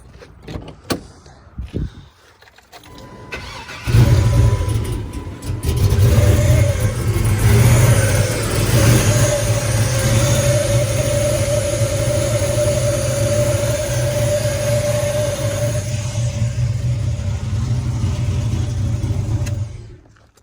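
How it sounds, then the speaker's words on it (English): A few quiet clicks and shuffles, then an LS-swapped S10 truck engine cranks and starts cold, settling into a loud idle with a distinct high whine running over it. "It's a little noisy on the startup. It makes that weird whining noise."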